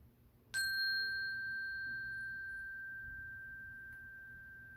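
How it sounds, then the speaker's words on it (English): A single bell struck once for a yoga breathing exercise, a clear bright ding that rings on with a long, slowly fading sustain over a quiet room. "When you can't hear the bell anymore, put both arms down."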